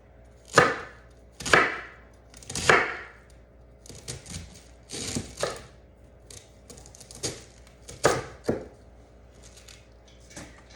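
A kitchen knife chops food on a cutting board in a home kitchen, giving a run of crisp, close knocks, some spaced out and others in quick clusters, with no talking.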